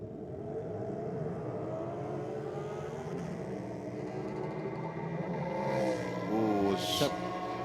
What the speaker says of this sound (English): I think that was rev limiter